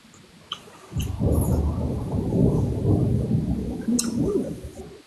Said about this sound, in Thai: ทำไมฝนตกแรงจังอ่ะ